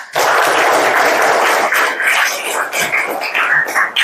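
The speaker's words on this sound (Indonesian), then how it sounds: "Tepuk aplaus untuk kalian semua." Applause from an audience at a school project presentation, a dense continuous clatter of many hands that starts abruptly and holds loud and steady for about four seconds before thinning slightly at the end.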